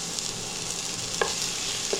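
Garlic and chopped ginger sautéing in spiced oil with bay leaf hiss in a steady, soft sizzle, broken by a couple of light spoon taps against the pan.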